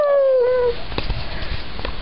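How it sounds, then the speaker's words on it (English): A dog gives a drawn-out howling whine up close, its pitch sliding downward for under a second, followed by softer rustling and scattered faint knocks. "what are you barking at the camera for?"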